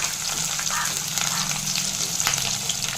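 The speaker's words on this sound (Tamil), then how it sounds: "அந்த முந்திரி பருப்புக்கு நிறம் மாறுற அளவுக்கு வறுத்துக்கலாம்" Peanuts and cashews fry in oil in a pan with a steady, close sizzle and soft crackle throughout.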